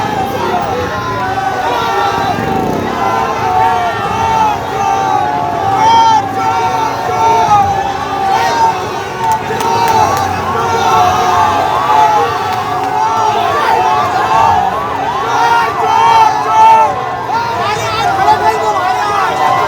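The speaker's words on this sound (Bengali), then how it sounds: "বারাসাতের শুভেন্দু অধিকারীর কনভয় লক্ষ্য করে স্লোগান তৃণমূল কংগ্রেসের" At Suvendu Adhikari's convoy in Barasat, a dense outdoor crowd of Trinamool student supporters chants slogans loudly and continuously, rhythmic voices layered over general hubbub.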